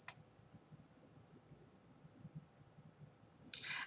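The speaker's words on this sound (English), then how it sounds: "go ahead and click on search." A single crisp computer mouse click on a search button, close and brief, near the end after a near-silent stretch with faint low tapping, preceded by a small click at the start.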